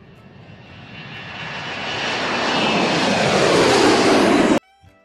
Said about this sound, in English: It's the sound of an airplane.